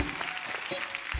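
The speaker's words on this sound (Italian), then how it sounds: "un applauso a Pier Francesco" Studio audience applause for a photographer on an Italian live TV show, a brief burst of steady clapping with some low thumps, fairly faint and under a soft background.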